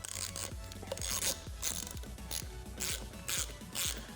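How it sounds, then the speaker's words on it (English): A 9/16 ratchet tightening the prop nut on a Minn Kota Ultrex trolling motor, a rapid series of about a dozen close metallic clicks in a steady rhythm, with no voices. "And then just take your 9/16 ratchet."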